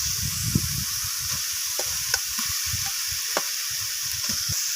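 Fried potatoes and spice paste sizzle in a pan for a vegetarian jackfruit curry, a steady bright frying hiss with soft scraping stirs and occasional small pops, close and continuous.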